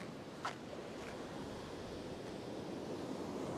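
Ocean waves and swell break on a beach near a sandbar in a steady, even wash of surf with some wind noise, faint and continuous, with no voices.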